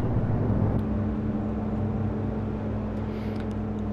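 A jeep in the video game DayZ drives steadily, its engine humming and rumbling continuously at moderate loudness without talk.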